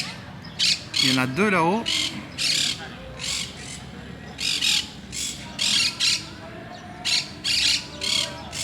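Several parrots squawk high overhead outdoors, a series of loud, harsh calls in irregular bursts through the whole stretch, with a person speaking briefly near the start.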